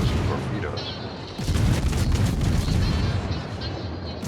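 Naval guns blast in a World of Warships-style battle as the cruiser Minotaur fires shells at the battleship Ohio, heavy booming reports rolling together over dense rumbling battle noise with a louder burst partway through and no talk.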